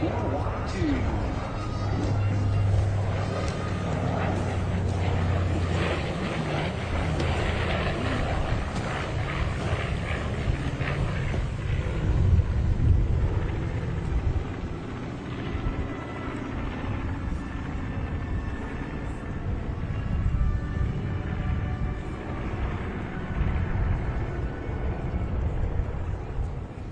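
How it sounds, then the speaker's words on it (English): A Consolidated PB4Y-2 Privateer four-engine piston bomber flies past at the Milwaukee Air & Water Show. Its broad droning roar rises and swells for nearly half a minute under continuous commentator speech and outdoor wind. "There is the consolidated Privateer, the PB4Y-2."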